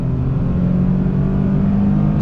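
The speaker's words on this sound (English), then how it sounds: "Great sound coming from the engine and the exhaust." A Nissan 370Z Roadster with a seven-speed automatic pulls hard under throttle, its engine and exhaust giving a loud, steady, smooth roar from close by with no voices over it.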